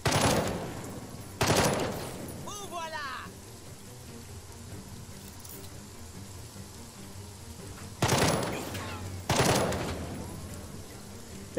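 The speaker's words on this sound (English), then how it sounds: "Machine gun Overwatch fire." Machine-gun overwatch fire in the tactical video game Jagged Alliance 3, heard as a few loud, sharp bursts near the start and again toward the end, separated by a quieter stretch of ambient game noise.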